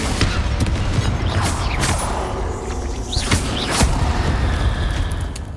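Confringo blasting spell explosions in Hogwarts Legacy: loud, close bursts and booms with whooshing swishes, several impacts spread across a busy, dense roar.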